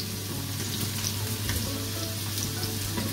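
Onion and garlic fry in a pan, a steady low sizzle with a faint crackle running throughout, under a constant background hum.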